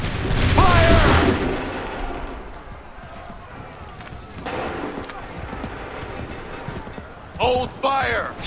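Musket volleys ring out on a battlefield in Assassin's Creed 3, with a loud burst of fire at the start, a softer spread of shots midway and two sharp volleys near the end, with shouted voices and commotion between them.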